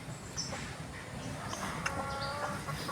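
Chickens, including a red one, clucking and chirping in a busy yard, with short calls scattered over a constant outdoor background hum.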